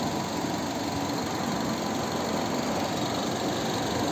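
A Mazda 6 Exclusive with a 2.0 petrol engine and automatic gearbox idles close by, giving a loud, even, unbroken hum with a faint rough vibration and no voices.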